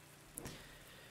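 Steady rain falls in the video game Dead in Vinland as a faint, even hiss of wash, with one brief soft tap and no voices.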